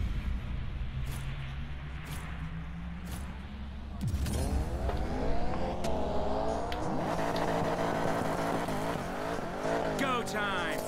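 Engine of a race car in Need for Speed Payback, idling with a low drone before surging into loud revving with rising and falling pitch sweeps, tire noise and speech mixed in.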